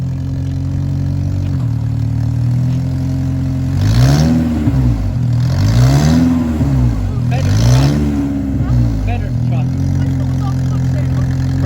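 A BMW E46 318 doing donuts, its engine revving in repeated rising and falling surges over a steady idle drone, close and loud, while people talk over it.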